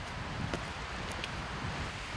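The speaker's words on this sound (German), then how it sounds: "Der Wind geht auf." Wind rushes steadily across an exposed mountainside as a thunderstorm approaches, a constant faint roar with soft gusting buffets and no voices.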